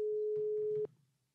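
A steady electronic telephone call tone holds for under a second, then cuts off sharply, leaving faint line noise. It is quiet and close, with no talking.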